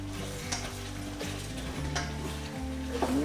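Lemon paprika chicken sizzling in a frying pan while being stirred, a constant close fry with a few scraping strokes of the utensil against the pan and no talk.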